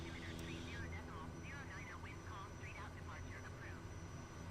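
Light aircraft engine in a flight simulator game throttling up for takeoff at a busy island airport, a steady loud drone under a person talking over it.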